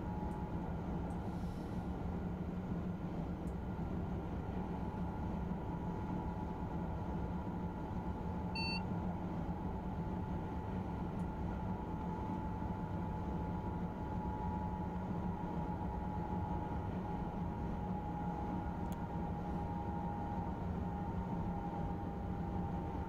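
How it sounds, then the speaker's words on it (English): A high-speed train in Train Simulator on the LGV Rhône-Alpes & Méditerranée route gives a steady, even rumble and hum mixed with constant wind rush, with a faint cab beep partway through and no talking. "train sounds good. I like the audio. Wind noise is quite good."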